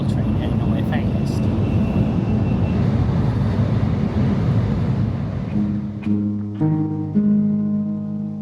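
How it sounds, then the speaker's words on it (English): A Japanese bullet train pulls out of a Tokyo station and speeds away, a loud, steady rushing roar that fills the clip before thinning into a lower, tonal hum. "Bullet train heading away fast."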